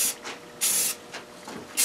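Aerosol spray coating hissing onto a floater picture frame moulding in short separate bursts with pauses between, close and fairly loud, no voices.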